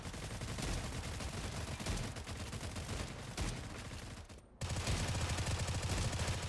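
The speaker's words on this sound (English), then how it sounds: "I hate this shotgun, man." Shotgun blasts and other gunfire in the video game Stalcraft: X, a steady loud barrage of repeated shots with a brief drop-out midway before the firing resumes at full strength, with no talk.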